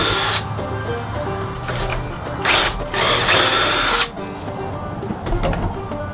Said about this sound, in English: I'm just using a 1/4-inch drill bit with a stop collar to drill straight through the letters.